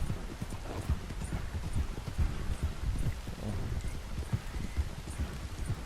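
Horse hooves clip-clop on the ground in the video game Red Dead Redemption 2, a steady, fairly quiet rhythm of soft thuds running throughout with no talking.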